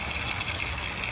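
Water pumped through a hose pours steadily over rocks in a DIY outdoor garden water feature, a continuous close gushing and splashing without pause.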